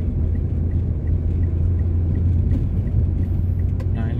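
A motorcycle on the Suramadu bridge overtakes a Honda Mobilio, with steady loud road and engine rumble throughout and a passing swell near the end.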